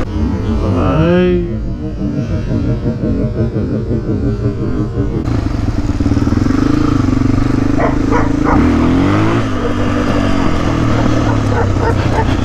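A puppy gives a few short, yappy barks, scattered through the clip under a loud, steady rumble that resembles an engine or motorcycle running nearby.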